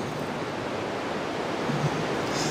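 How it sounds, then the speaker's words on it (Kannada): Steady sea surf and wind at Varkala beach in Kerala, a constant wash of breaking waves with gusts brushing the microphone, and no voices. "ಯಾವ ಸಮುದ್ರ ಹೋದ್ರೂ ಅಷ್ಟೇ ಅಲ್ಲಿ ಬೀಸೋ ಗಾಳಿ ಮತ್ತು ಅವು ನೀರು ನಮ್ಗೆ ಕೇಳಿಸೋ ಶಬ್ದಗಳು"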